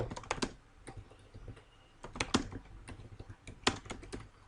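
Someone types a Cisco router configuration on a computer keyboard. Irregular bursts of close, clicky keystrokes come with short pauses between them in a quiet room.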